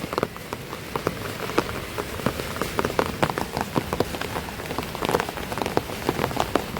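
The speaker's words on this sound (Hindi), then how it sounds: "ये देखिए कैसा मौसम हो रहा है और कैसी बारिश हो रही है" Steady rain falls on surfaces during monsoon-like weather, with dense irregular drops and patters spread across the clip and a constant wash of hiss underneath.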